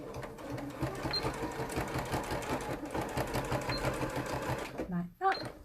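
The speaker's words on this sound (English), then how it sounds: "So I'm just going to do a couple of stitches forward and backwards." A sewing machine runs a few stitches forward and backward on a single welt pocket, a steady mechanical whirring with a rapid needle rhythm that continues evenly and stops abruptly near the end, with a person talking over it.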